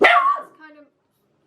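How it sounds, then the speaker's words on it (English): A dog gives a single sharp, close bark indoors, followed by a brief trailing whine as a person begins speaking. "Sorry, that was the dog."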